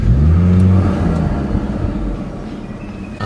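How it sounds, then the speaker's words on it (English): Audi S4 running an E85 stage 1 plus tune revs loudly up close, a strong low engine tone rising then easing off with a steady turbo whir fading toward the end. "I made some nice turbo sounds, huh?"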